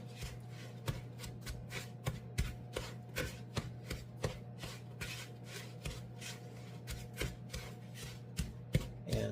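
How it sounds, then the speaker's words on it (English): Softened butter being broken up and stirred for sugar cookie dough, a steady series of soft scraping, tapping strokes of utensil against bowl, close and fairly quiet, with no talking. "I just break up the butter, mix it up a bit"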